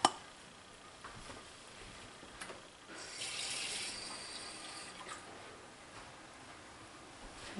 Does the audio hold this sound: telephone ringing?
no